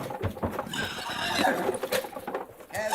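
Horses whinny and hooves clip-clop in an old-time radio western drama, the neighs rising over steady hoof beats with a busy, close sound and no speech.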